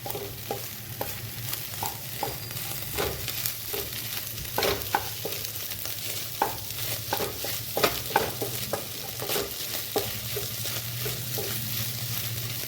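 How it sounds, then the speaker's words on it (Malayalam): Egg thoran fries in a pan while a spoon stirs it, a steady close sizzle broken by repeated scraping and tapping strokes against the metal, with a low hum underneath and no voices. "ഇനി ഇത് നമ്മളെല്ലാം കൂടി ഇളക്കാണ്"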